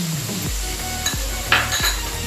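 Spoon scraping and clinking in a pan as masala cooked in oil is stirred together with raw mango paste, a few scrapes and clinks over a low frying sizzle.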